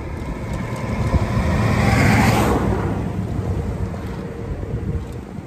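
A vehicle passes on a quiet rural road, swelling to a broad rush at its peak and fading away again, heard amid steady wind buffeting the microphone.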